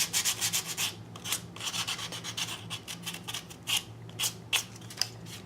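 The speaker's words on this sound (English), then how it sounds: "I'm going to take my sandpaper, and I'm just going to go around the edges" Sandpaper rubbed by hand along the edges of a box, making rapid rhythmic scratchy strokes in short bursts, close and fairly quiet, with no talking.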